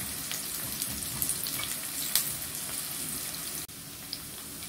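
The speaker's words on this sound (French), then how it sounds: "Et l'huile, elle est bien chaude. Je vais mettre les oignons." Onions drop into hot oil in a pan for a tomato sauce and fry with a continuous crackling sizzle, close up and fairly quiet, with a few sharper pops and a brief clatter near the end.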